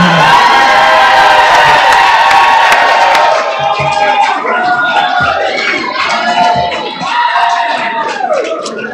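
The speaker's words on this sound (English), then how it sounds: "Give them a round of applause." Nursing graduates at a pinning ceremony applaud and cheer toward their families and guests, a loud dense burst of clapping and whoops for about three seconds that thins into crowd murmur and scattered voices.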